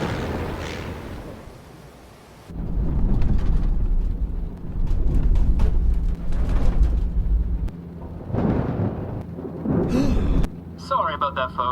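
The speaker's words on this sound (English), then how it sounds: "There's a nasty storm brewing behind us." Thunder from a storm in the video game Murder by Choice: Clue Mystery: after a quiet opening, heavy low rumbles and booming surges roll on, with speech at moments.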